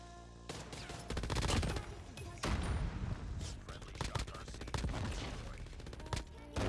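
Bursts of rapid machine gun fire from an MG82 in Call of Duty Mobile, loud sustained volleys with short pauses between them, while a player talks over the shooting.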